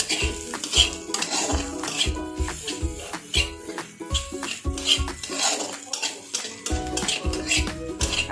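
Utensil scraping and clinking in a pan as eggplant and egg are stirred with cumin and coriander, repeated metallic knocks in a steady rhythm, close and clear with a faint sizzle beneath.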